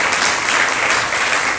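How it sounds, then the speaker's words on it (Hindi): Listeners at a Hindi spiritual discourse applaud with loud, dense, even clapping that runs steadily through the brief moment. "तो ताली नहीं बरसा पा रहे उनके लिए"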